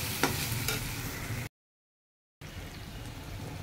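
Food frying and being stirred in a kitchen pan while spiced egg curry is prepared for lunch, a steady close sizzle with a couple of scraping stir strokes early, then a sudden dead gap before the sizzling resumes.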